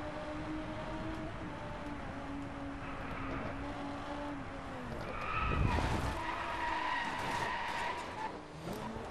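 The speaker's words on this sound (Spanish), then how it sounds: "un poquito para que escuchen el motor del coche" A race car in the Driveclub driving game roars with a sustained, shifting engine note while its tires skid and squeal through a corner, loud and close throughout.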